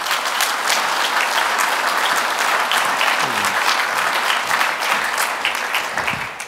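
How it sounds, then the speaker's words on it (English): A conference audience gives a sustained, loud round of applause for a speaker introduced on stage at a Student Beans event, steady dense clapping from a large crowd throughout. "Ladies and gentlemen, a huge round of applause for James Eder"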